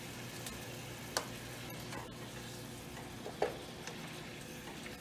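Ground beef fries in a pan with a quiet, steady sizzle, broken by a couple of sharp ticks and clacks from a utensil against the pan.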